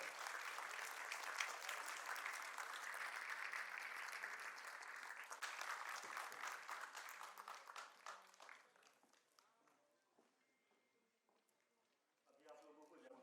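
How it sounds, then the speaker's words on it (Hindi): Audience applause at an education and entrepreneurship summit and awards ceremony, a steady mid-level patter of clapping that thins out and fades toward the end before a voice comes in. "सोच सोच के तालियों की गड़गड़ाहट है।"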